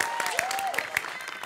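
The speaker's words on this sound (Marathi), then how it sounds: "टाळ्या वाजवा त्यांच्यासाठी" Scattered audience applause on a comedy show stage, moderately loud, with a voice and other sounds overlapping the claps across this short moment.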